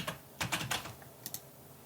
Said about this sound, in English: we're going to type in something which hasn't been created.